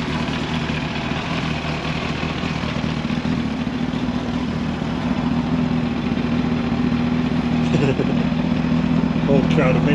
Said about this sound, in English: it's not revving at all, just idle.